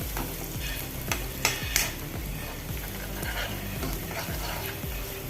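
Spring onion stalks with salt frying in a pan, a steady close sizzle with rhythmic scraping strokes as they are stirred, no voices.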